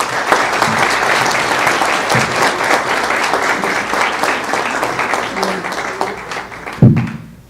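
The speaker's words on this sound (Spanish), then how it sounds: "Recibimos un aplauso a Luis Vicente León" An audience breaks into sustained applause to welcome speaker Luis Vicente León at a forum, dense clapping filling the room steadily before fading out near the end.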